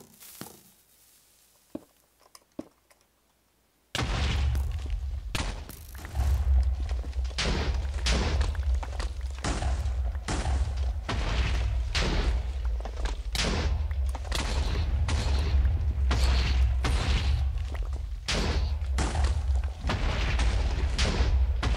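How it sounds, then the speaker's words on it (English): TNT blocks blowing up in Minecraft, a near-continuous chain of loud booming blasts in rapid succession after a few seconds of near silence with scattered faint clicks. "Explosions of fun."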